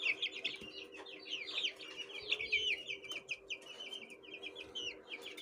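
Shamo chickens, a heavy fighting breed, cluck and chirp softly in a pen, a run of quick, faint, close calls over a low steady hum, with no talking.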